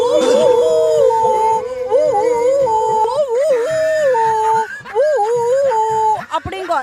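A dog's howl, apparently imitated by a human voice: long wavering tones rise and fall in drawn-out, mournful phrases, fairly loud and steady throughout with no other talk.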